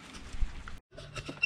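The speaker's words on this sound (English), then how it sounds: "it's raining pretty good here" Rain falling steadily outdoors at a roadside spot where a semi truck is being repaired, a soft broadband patter close to the mic with a brief dropout in the middle.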